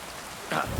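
Rain in the video game Kingdom Come: Deliverance II, a brief steady patter of falling rain with a slightly louder burst near the end.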